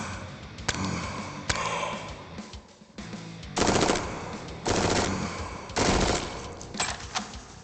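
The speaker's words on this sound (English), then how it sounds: "that's basically the SMG in action. It fires lots of bullets" SMG fire in Jupiter Hell, a series of rapid bursts of many bullets, each lasting under a second, separated by brief pauses, fairly loud against a quiet background.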